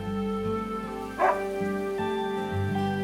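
A dog barks in the video game Another Code: Recollection, a single yipping woof rising briefly over steady background music, with a soft whimper-like tone and no talk.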